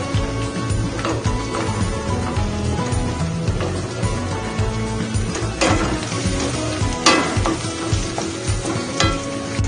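Chopped long beans stir-fried with ginger in a wok with a little oil, a loud continuous sizzle broken by repeated clanks and scrapes of the spatula, no talking.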